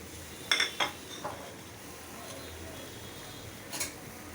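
Metal lid placed onto a cooking pot of small fish curry in a home kitchen, giving a couple of close clinks followed by a fainter clatter a few seconds later, with no talk.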